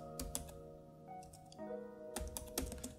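Keys clack in quick irregular bursts on a computer keyboard as a Kali Linux command is typed, close and fairly quiet, with short pauses between the clusters of keystrokes.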